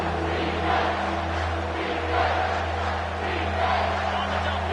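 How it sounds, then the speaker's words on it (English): Crowd noise from an American football video game stadium, a steady roar swelling in gentle waves throughout, with engine-like low hum beneath and no clear speech. "The crowd getting behind this defense as they try to get a stop in the red zone."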